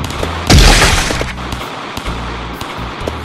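A sniper shot in a tense video game level cracks out as a single loud burst with a broad echoing tail, followed by quieter game rumble and scattered small impacts.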